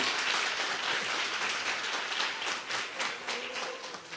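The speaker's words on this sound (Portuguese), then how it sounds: "Se é para aplaudir, vamos fazer bonito." A church congregation applauds, a fairly faint but sustained patter of many hands clapping with no voices over it.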